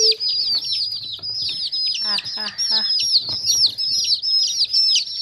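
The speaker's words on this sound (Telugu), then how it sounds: "చిన్న చిన్న పిల్లలు కోడి పిల్లలు ఎన్ని ఉన్నాయి చూడండి" Dozens of baby chickens peep in a dense, continuous, high chatter close by, with occasional clucks mixed in, while a person laughs and talks over them.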